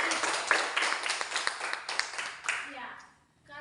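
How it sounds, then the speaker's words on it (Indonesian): A classroom of students claps for a classmate during a lesson on heat, a dense patter of applause that fades out after a few seconds, with voices mixed in. "beri tepuk tangan buat Aldi"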